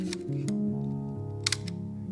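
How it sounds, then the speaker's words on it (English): Shutter of a Seagull 4B twin-lens reflex medium-format camera being re-cocked, a couple of short close mechanical clicks over a steady low hum. "you need to re-clock the shutter."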